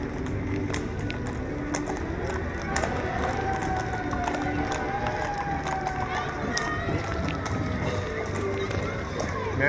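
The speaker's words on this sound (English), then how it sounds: "And here is our first horse" Steady clopping of horse hooves on pavement during a rainy Christmas parade in Marysville, mixed with a busy outdoor crowd and street noise, fairly loud and continuous.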